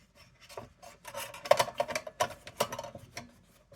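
A chopstick scrapes and rasps inside the corners of an Embury No. 150 pipe during a refurbishing job, making a run of close, irregular scratchy strokes and small clicks.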